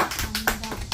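A child claps hands several times in a quick, uneven run of sharp taps, close and moderately loud, with no talking over it.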